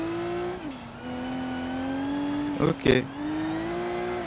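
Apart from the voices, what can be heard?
car driving and drifting in the video game BeamNG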